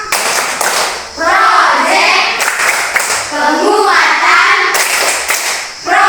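A class of schoolchildren in an Indonesian classroom chants together and claps a rhythmic pattern, with bursts of hand claps between loud group voices.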